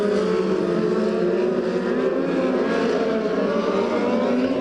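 Midget race cars roaring around a dirt oval during a USAC Western States Midgets event, a loud continuous high-pitched engine whine from several cars that holds steady throughout, with no voices over it.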